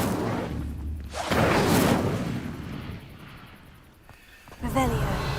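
An Incendio fire spell cast in Hogwarts Legacy, a roaring, whooshing burst of flame that swells loudly, fades over a couple of seconds, then flares again briefly near the end. A voice speaks at the start.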